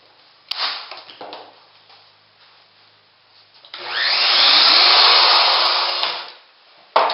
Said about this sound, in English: Now I want to drill out my center row of holes